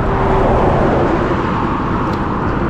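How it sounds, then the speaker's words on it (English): Steady roar of cars speeding along a Nairobi road in Lang'ata, near the link to the Nakuru-Nairobi Highway, a continuous loud wash of engine and tyre noise with no pauses. "these cars are passing at terrific speed"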